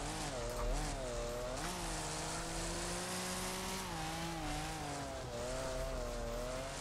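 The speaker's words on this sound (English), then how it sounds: "That was a nice little drift." Car drifting in the Wreckfest racing game, with a steady, loud engine drone rising and falling in pitch as it revs, overlaid by continuous harsh tire squeal throughout, no voices.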